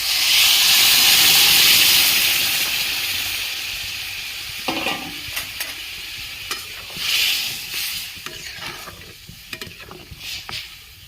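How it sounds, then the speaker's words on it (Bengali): Boiled mung dal poured into a hot pan of fried spices, a loud rushing sizzle and hiss that fades into softer frying with scattered stirring clicks. "সেদ্ধ করা মুগ ডালটা আমি ঢেলে দেবো।"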